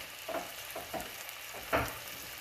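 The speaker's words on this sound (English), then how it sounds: "I'm going to add in the onions and the mushrooms and let them cook for 5 minutes" Onions and mushrooms cook in butter and oil for keto cream of mushroom soup, a quiet, faint sizzle with a few soft scrapes of a utensil stirring, the last one a little louder.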